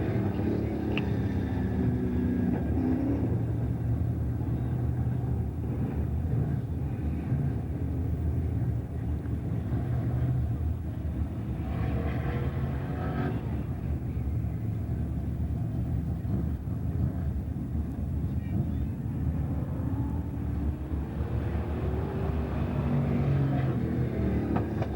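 A race car runs on the track during qualifying at the 1994 Hillbilly 100, its engine a steady rumbling drone that rises and falls at a distance, heard under crowd noise and a voice over the PA.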